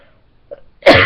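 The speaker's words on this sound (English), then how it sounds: "I don't know why I'm coughing" One sharp, loud cough bursts out near the end after a faint throat sound, close to the mic.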